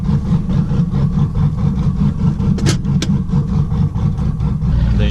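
A lifted Chevrolet Silverado with a 5.3L V8 and a TSP 224R cam idles loudly and close by, its deep, choppy, lumpy rumble steady throughout, with two brief sharp ticks partway through.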